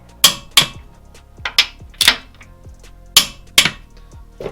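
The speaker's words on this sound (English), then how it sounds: "the PPF to transmission bolts need to be done up to the same torque setting" PPF-to-transmission bolts on an MX5 turbo build are tightened with a torque wrench, giving sharp, close metallic clicks and clacks, seven or so, in irregular pairs and singles with short ringing tails.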